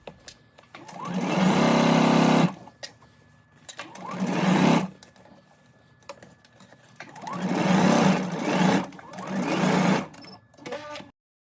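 A home sewing machine stitching welt pocket pieces together for a garment: several bursts of fast, even motor-driven stitching, close and loud, separated by short pauses and a final shorter run.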